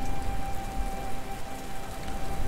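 Steady, even rain patters across the whole stretch in the city-building video game Patron, with a faint constant tone running underneath.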